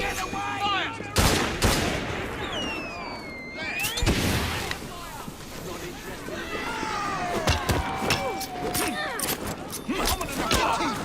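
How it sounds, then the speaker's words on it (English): A pistol volley erupts in Assassin's Creed Syndicate, with several sharp gunshots cracking in quick succession amid game ambience and shouted voices, followed by scattered further shots and bustle. "Pistols at the ready! Fire!"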